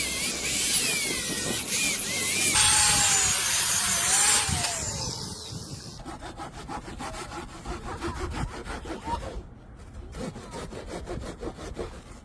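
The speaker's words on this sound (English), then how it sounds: "cutting the thick black roofing stuff, first with a hand saw, then finishing with the grinder" A hand saw cuts through thick black roofing moisture barrier, steady rasping back-and-forth strokes close up, with rapid rhythmic scraping in the later part.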